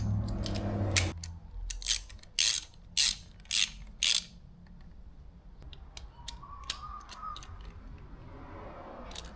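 A hand ratchet tightening a fastener on a KTM 690 Enduro R motorcycle, five or six short clicking bursts in a steady rhythm, close and loud, followed by quieter handling noises.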